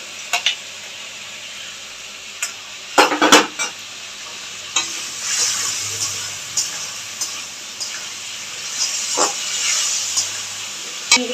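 Potatoes hit hot oil in a pan for a vegetarian potato, pointed gourd and soybean curry, a steady bright sizzle running throughout, broken by a few sharp clatters of a spoon stirring against the pan.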